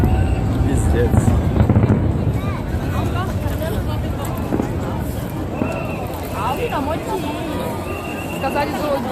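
Fireworks burst at the Seoul fireworks festival in a continuous run of booms and crackles, loud and fairly close, with crowd chatter and voices mixed underneath.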